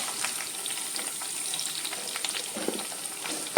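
Sliced green chillies and curry leaves fry in hot oil in a pan, giving a steady close crackling sizzle throughout, with a few faint utensil touches near the end.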